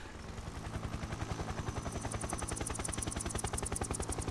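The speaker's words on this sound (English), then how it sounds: "That's the voice of the Shagohod." Mechanical rumble of the Shagohod tank in Metal Gear Solid 3: Snake Eater, a loud, rapid rhythmic thumping and clattering pulse that stays steady throughout with no voices.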